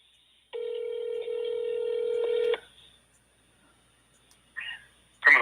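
A telephone call placed for a radio phone interview: a steady electronic ringing tone holds for about two seconds, then stops and is followed by a couple of short, sharp electronic chirps.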